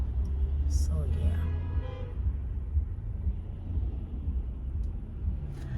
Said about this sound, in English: I don't know why people are honking the horn